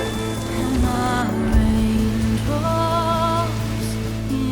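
Steady rain falls with a loud, even hiss, layered under sustained melodic musical tones that rise and fall over it.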